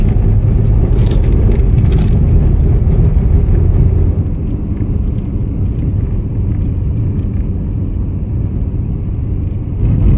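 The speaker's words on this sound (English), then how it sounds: "The car is coming down." Car on the road to an observatory near Sutherland, a loud, steady interior engine and road rumble that eases a little partway through, with no talking.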